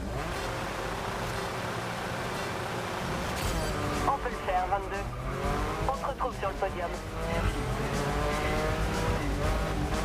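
Race cars roar through a GRID Legends video game race, engines revving loudly with bursts of tire squeal and skidding, while a person talks over the racing.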